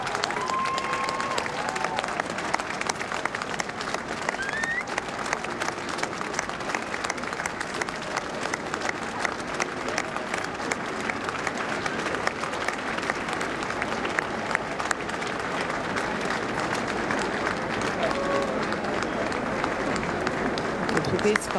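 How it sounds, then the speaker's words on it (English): Steady applause from a large crowd lining a street as the funeral cortege of Queen Elizabeth passes from Balmoral to Edinburgh, continuous clapping that fills the whole stretch with some voices underneath. "besides the bursts of applause"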